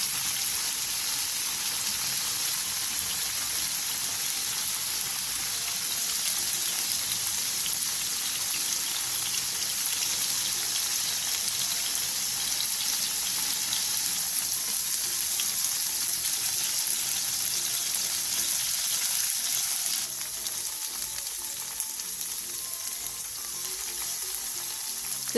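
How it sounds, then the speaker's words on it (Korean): Tofu pan-fries in oil over high heat, giving a loud, continuous crackling sizzle that holds steady throughout with no talking. "팬에 기름을 두른 뒤 두부를 넣고 센 불에서 앞뒤로 노릇노릇하게 구워주세요."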